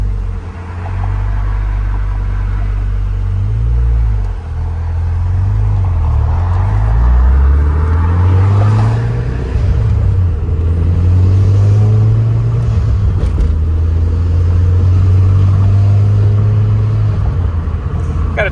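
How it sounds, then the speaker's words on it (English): An Audi TT with a new clutch being broken in drives along, its engine note climbing and dropping in repeated steps as it shifts up through the gears, heard from inside the cabin with steady road rumble. "All right, so out for a drive on TT."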